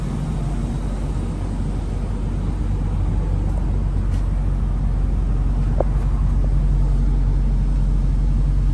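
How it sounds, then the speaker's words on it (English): A 1997 Jaguar XJ8 V8 engine idles smoothly and quietly in a steady, even hum, with a soft broadband rush and no talking over it. "Engine sounds nice and quiet, runs very smooth."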